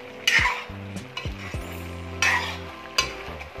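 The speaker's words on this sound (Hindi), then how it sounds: "तो एक बार इसको अच्छी तरीके से मिक्स कर लेंगे।" A spoon scrapes and stirs aloo gobi sabzi of potatoes and cauliflower in a pan, with a soft frying sizzle, a few clear metallic scrapes and a steady low hum underneath.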